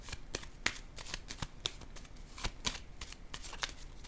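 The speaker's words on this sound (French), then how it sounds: "Je vais déposer une carte sur le chariot à l'envers." Tarot cards are handled and laid face-down on a cart, giving a steady run of soft, crisp card snaps and rustles at a close, quiet level with no talking.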